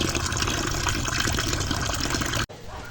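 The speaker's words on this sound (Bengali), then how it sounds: "এই যে এখানে শুধু জল পড়ছে" Water pouring steadily from a tap while small river tengra fish are rinsed and cleaned, a constant close splashing gush that cuts off abruptly near the end, leaving a quieter trickle.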